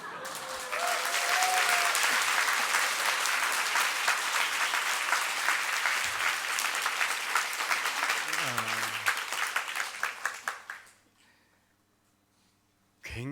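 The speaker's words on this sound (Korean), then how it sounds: "생각보다 박수가 적게 나왔어요" Congregation applauding during a Sunday church service, sustained dense clapping for about ten seconds with a voice talking over it, then fading out abruptly into near quiet.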